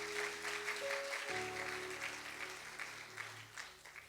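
Church congregation clapping and cheering in acclaim of the Lord during a worship service, a steady wash of applause with sustained organ or keyboard tones underneath.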